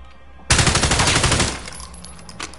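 A loud, sustained burst of automatic fire from a gun in Call of Duty Warzone, kicking in abruptly after quiet and rattling steadily for about a second before fading into softer scattered shots.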